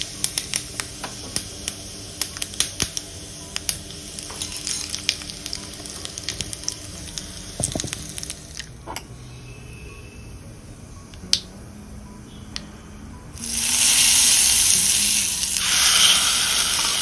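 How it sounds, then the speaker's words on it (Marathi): Mustard seeds, cumin and asafoetida in hot tempering oil crackle and pop in scattered sharp bursts, then a loud sustained sizzle swells as the tempering hits the chutney, close and without talk. "या चटणीवर आपण मस्त चरचरीत अशी मोहरी, जिरे आणि हिंगाची फोडणी घालणार आहोत."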